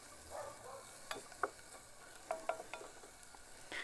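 Onions cook quietly in a pan for vegetarian ramen, with a faint sizzle broken by a few scattered clinks and stirring scrapes.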